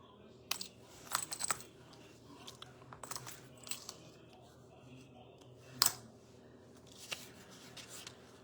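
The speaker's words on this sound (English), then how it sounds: "I'm going to cut a little of this off." Scissors snip a piece from a gingerbread-themed paper craft in short, quiet cuts and rustles. Paper handling adds sporadic crisp clicks, with a sharper snap near the middle, over a soft room hum.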